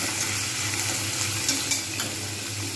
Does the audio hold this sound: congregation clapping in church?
no